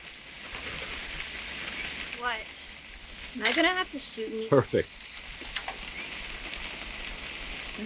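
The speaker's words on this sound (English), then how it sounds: "It's gonna rain the whole weekend, isn't it?" Steady rain patters on a surface throughout, with people talking over it and brief sharp knocks in the middle.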